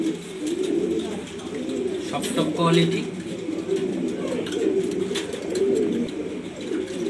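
Grizzle blue racer pigeons coo softly and steadily in a loft, a low continuous murmur from several birds, while someone talks over them throughout.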